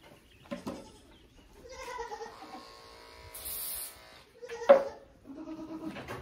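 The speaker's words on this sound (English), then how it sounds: "I am going to clip around her pastern. For that, I'm gonna use my smaller set of clippers." Small electric clippers buzz in short bursts while trimming around a goat's pastern, with the goat bleating loudly in between, close by in a quiet setting.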